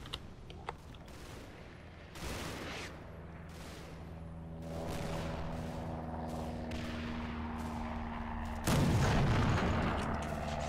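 Artillery shells hitting trees in the WWII game Combat Mission: a few heavy booms land several seconds apart over a low rumbling battlefield backdrop, the last impact the loudest.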